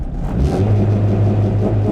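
A Honda DC5R engine revs steadily at part throttle on a winter day, giving a close, loud mid-pitched drone with rumbling low end and no talk.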